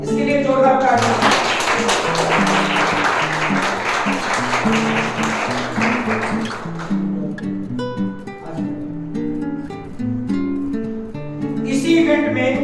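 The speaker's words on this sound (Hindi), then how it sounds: "इसके लिए जोरदार तालियां।" Audience at a school sports and culture felicitation ceremony claps in a dense, loud burst that thins out, with music playing underneath and continuing after the applause fades.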